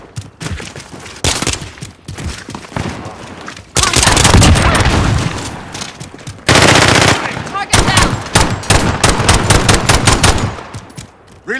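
Rapid automatic gunfire with heavy booming shots in an online Call of Duty Modern Warfare match on PS5, coming in loud, dense bursts separated by brief lulls.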